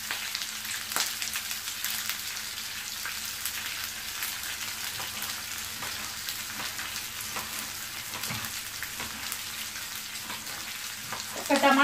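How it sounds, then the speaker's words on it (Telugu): Chopped onions, green chillies and ginger fry in a pan for godhuma rava upma, a steady close sizzle that continues throughout, with a few stirring scrapes and a brief clatter at the end. "ఉల్లిపాయలు, పచ్చిమిరకాయలు, అల్లం ముక్కలు, ఇవి ఇలా వేగేటప్పుడు"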